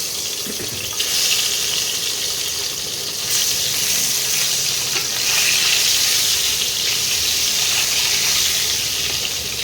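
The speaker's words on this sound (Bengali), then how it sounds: "এই ডিমগুলোকে এবারে ভেজে নেব।" Boiled duck eggs, rubbed with salt and turmeric, fry in hot oil on an induction cooker, giving a steady, close, even sizzle that runs throughout with no talking.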